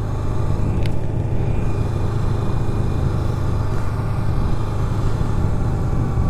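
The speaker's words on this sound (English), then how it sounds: "Even though this bike is stock and quiet, it's still a lot of fun" Loud, steady rumble of a quiet stock motorcycle cruising, the engine drone and road noise blending into a continuous dense roar with no talk.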